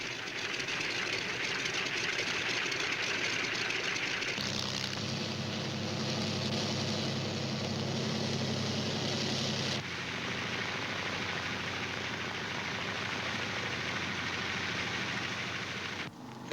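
Engines of C-47 transport aircraft running on the runway before takeoff, a steady loud drone that deepens partway through into a heavier low rumble, continuous and without talk.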